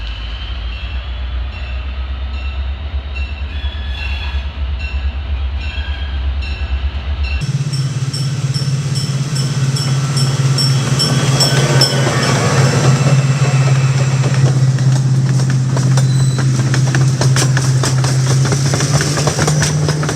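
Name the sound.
train passing slowly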